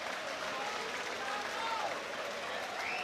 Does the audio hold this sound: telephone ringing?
no